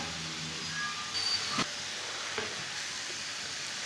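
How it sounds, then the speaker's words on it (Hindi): Ground red chilli, turmeric, whole coriander and cumin cook in a pan for a village-style chicken kebab, giving a soft, even sizzle close by with a couple of brief scraping stirs. "मसालों को अच्छी तरह मिक्स करके इसे 5 मिनट के लिए पका लेंगे"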